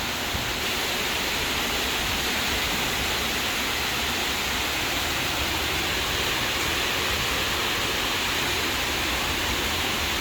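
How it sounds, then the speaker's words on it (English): Steady, heavy roar of surf pounding the Iloilo coastline during Tropical Storm Paeng (Nalgae), broadband and continuous throughout with no distinct breaks, loud and close. "Man, oh man, listen to that coastline out there."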